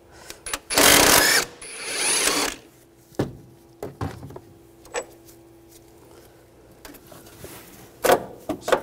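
Ratcheting with an 18mm socket while removing a bolt from a transmission mount on a 2013-2019 Ford Escape 2.0L: a few clicking turns and metallic clunks, close and fairly loud, with louder handling noise early on.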